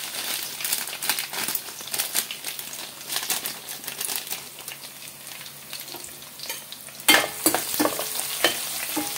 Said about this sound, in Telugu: ఇవైతే ఫస్ట్ వేసేసేద్దాం మన నూనెలో, వేగనిద్దామండి చక్కగా.